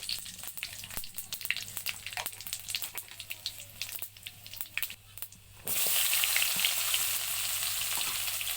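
Bay leaf and cumin seeds drop into hot oil after fish frying, first crackling in sharp scattered pops, then bursting into a louder, dense, steady sizzle close by.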